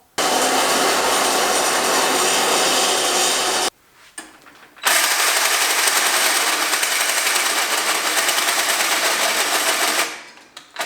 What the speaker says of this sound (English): I'm gonna take it to the bandsaw and rip a big angle out of it